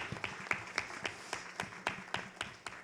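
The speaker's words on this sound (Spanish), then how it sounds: "yo pediría para todos un aplauso para ella por todos sus años de dedicación" An audience at a formal presentation in Cuba claps in honor of a long-serving colleague. The clapping is faint and distant, a thin, loosely rhythmic patter of hands.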